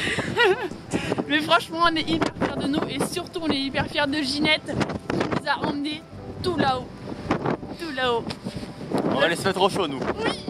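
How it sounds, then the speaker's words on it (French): Strong wind gusting at North Cape in chilly late-August weather roars steadily into the microphone, running under continuous conversation between people throughout. "Il y a énormément de vent."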